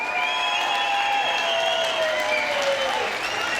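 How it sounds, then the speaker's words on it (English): Boxing event crowd in an arena applauding a young man with cerebral palsy, sustained loud clapping and cheering filling the hall, with ringing tones and voices layered over the steady roar. "Give him a round of applause."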